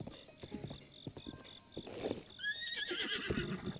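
A horse neighing in the video game Breath of the Wild, a clear whinny rising over hoofbeat clip-clops and game ambience, fairly close and moderately loud.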